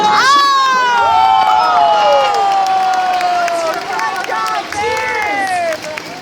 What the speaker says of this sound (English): And keep your applause going for Scott as well.